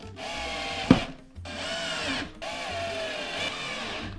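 A power drill driving screws into new furniture whirs in three sustained bursts separated by short pauses, with a sharp knock near the start, loud and close.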